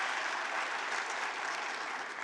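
Applause from an audience at the Newport News State of the City 2022 event as city council members are introduced, a dense, steady wash of many hands clapping at an even level with no voices.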